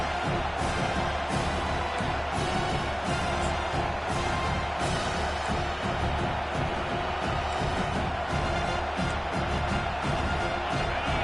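Dense football stadium crowd roaring and cheering steadily on third down as fans rally behind the defense, a loud sustained wash of voices throughout.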